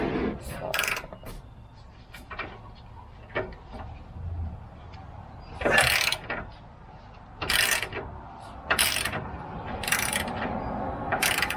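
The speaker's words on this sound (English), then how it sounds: "Just need to take off one more bolt." Ratcheting and clanking of tools working a bolt loose from the lower control arm of a 1966 Ford Galaxie, with irregular bursts of metallic clicks and taps up close and a person talking between them.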